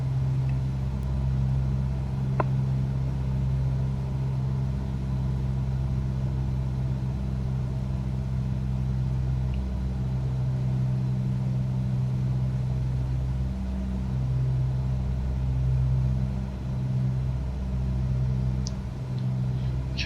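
Aircraft engine in Microsoft Flight Simulator holding a steady, loud droning hum with little change in pitch, running continuously and close with no talk over it.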